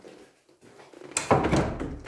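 Heavy wooden door of the Église Sainte-Marie church being tried while locked, a sudden loud rattling thunk followed by a few seconds of knocking and scraping against the frame, close by after near silence.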